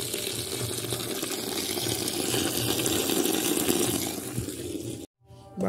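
Water pours steadily into a vessel for washing food in a home kitchen, a continuous gushing splash that swells, then cuts off abruptly near the end before faint handling sounds return.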